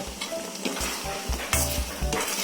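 A spoon scrapes and stirs mango curry with spices in a sizzling pan, a series of rhythmic scraping strokes over a constant close frying hiss, with no voices.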